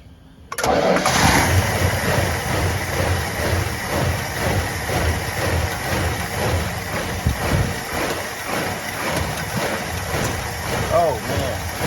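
An abandoned Plymouth Fury III that sat for 25 years cranks and catches, then runs loud and rough at high revs, its throttle hanging open with a steady pulsing roar close by.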